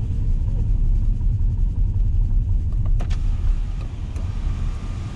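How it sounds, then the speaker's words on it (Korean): A car climbing a parking garage ramp toward the rooftop lot while the driver presses the accelerator gently, a steady low engine rumble echoing in the enclosed space with a couple of faint knocks near the middle. "예, 가속 페달 천천히 밟으면서 올라갑니다"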